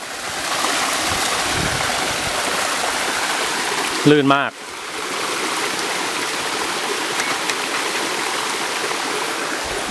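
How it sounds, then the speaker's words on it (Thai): Rushing water of a forest waterfall pours steadily nearby, loud and constant, with a brief spoken voice breaking in midway. "น้ำตกสายทิพย์ครับ"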